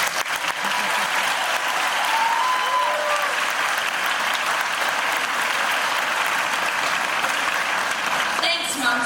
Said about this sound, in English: Let's take a moment to give them a round of applause.